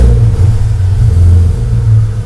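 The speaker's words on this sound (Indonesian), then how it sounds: "udah ganti knalpot full system exhaust. Suaranya kayak gimana, yuk langsung aja kita starter" A BMW E46 engine with a full-system exhaust starts and rumbles loudly up close, a deep throaty exhaust idling with slight swells in revs.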